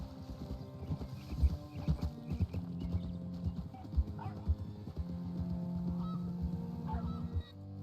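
Horse hooves clip-clop in a Western open-world game, a near, uneven plodding gait with intermittent animal calls and ambient sounds behind, then the steps ease off as the horse settles.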